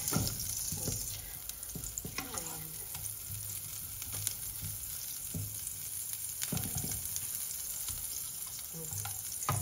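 Butter sizzles in a frying pan, a steady close hiss broken by a few clinks and scrapes of utensils against the pan.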